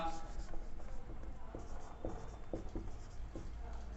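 Chalk or marker scratches across a classroom board during a physics lesson, short faint strokes in irregular bursts beneath a noisy background, with a teacher speaking.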